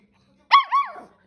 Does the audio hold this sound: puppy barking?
yes